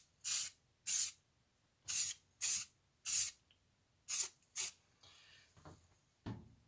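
Spray paint goes onto an airsoft rifle in eight short, sharp hissing bursts, close and fairly quiet, with faint handling clatter after the last burst.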